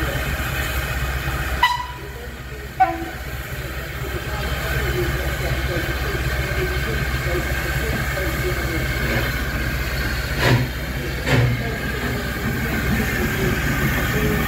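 A steam train runs on the 12:30 Oxenhope to Keighley heritage line with a loud, steady rumble of wheels and carriages, broken by a few short clanks and sharp hissing bursts.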